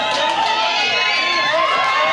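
A dense, loud wrestling arena crowd at the Sportatorium roars and jeers continuously, many voices blending into a steady wall of shouting throughout.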